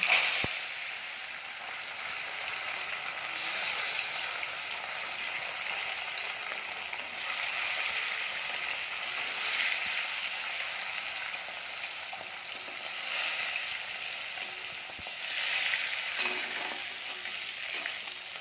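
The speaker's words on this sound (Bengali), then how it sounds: "এবার মাছগুলোকে আমরা একটু খুব ভালো করে লাল লাল করে ভেজে নেব" Snakehead fish pieces fry in hot oil, a steady, loud, close sizzle that runs unbroken with slight swells, and no one speaks.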